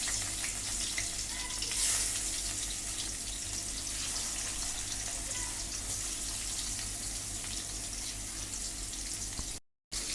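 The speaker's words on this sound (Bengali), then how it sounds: "এবারে আমি মাছগুলোকে ভেজে নেব।" Bhetki fish pieces frying in hot oil, a steady dense sizzle with a bright hiss that holds evenly throughout, close and fairly loud, with no talking over it.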